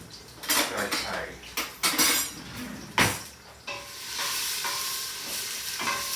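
A utensil stirs and scrapes through sizzling onions and chilies in a pot for a vegetarian minestra, giving sharp metallic clinks and knocks over a steady frying hiss.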